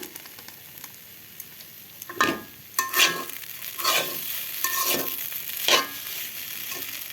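Two packets of noodles with Maggi masala stirred in a pan, a handful of distinct scraping strokes over a steady low sizzle, close and moderately loud, with no voices.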